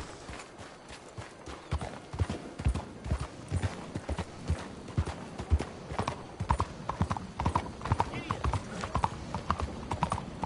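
Horse hooves clip-clop steadily while riding in Red Dead Redemption 2, a continuous rhythmic gallop close up, with an occasional whinny and voices talking over it.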